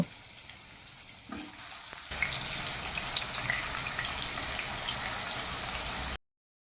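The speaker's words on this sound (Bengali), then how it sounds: "এখন আমি আলুটাকেও সুন্দর করে ভেজে নেব।" Potatoes fry in oil for a fish curry with a continuous hissing sizzle that grows louder after a couple of seconds, holds steady, then cuts off abruptly.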